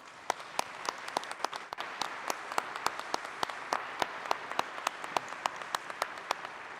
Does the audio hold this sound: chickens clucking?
no